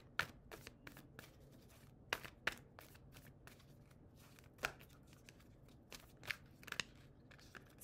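A deck of tarot cards is shuffled by hand close up, with quiet riffling broken by irregular sharp snaps and flicks, alone with no talk.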